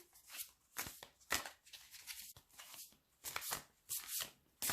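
Large tarot cards shuffled by hand in bursts of riffling and flicking, with short pauses between passes, close and moderately loud with no talk.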